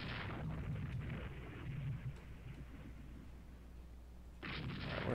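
Five-inch naval guns firing and striking targets in the naval strategy game Rule the Waves 3, heard as a faint, distant rumble of gunfire and impacts with broadband bursts at the start and end, no talk.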